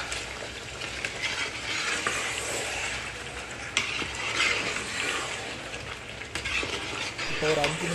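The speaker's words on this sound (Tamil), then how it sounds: "புதினா கொஞ்சம் தனியா தனியாக கொஞ்சம் போட்டு நல்லா கிண்டிக்கணும்." Mint being stirred into chicken biryani masala in a pan: a continuous close sizzle with rhythmic scraping and occasional clinks of a utensil against the pan, steady throughout, no talk.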